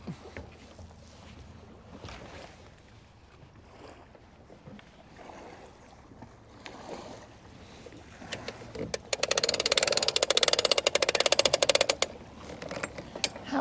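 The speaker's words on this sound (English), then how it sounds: "I assume you guys can hear the lake lapping at my feet" Lake water at Lake Guntersville lapping softly against the shore near the listener, a steady low wash that grows louder and more splashy toward the end.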